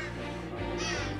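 A crow-like bird caws in a platform video game, a harsh call repeated over dense, continuous game music and effects.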